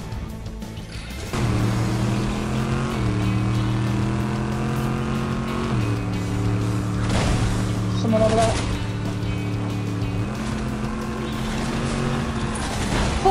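Cars in Fortnite drone steadily with engine hum shifting pitch as they speed around, continuous throughout with a player speaking briefly over it.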